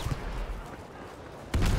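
M1 Garand rifle fire in the video game Battlefield V: a few dull distant reports, then a louder, closer blast near the end.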